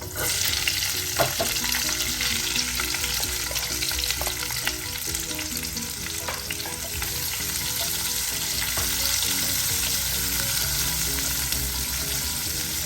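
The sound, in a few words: garlic and onions frying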